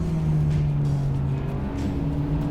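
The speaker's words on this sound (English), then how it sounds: "Oh yeah, those downshifts." A 2021 Hyundai Elantra N Line with a DCT gearbox droning steadily inside the cabin, its engine note dipping and rising as it downshifts, loud and continuous with no talking.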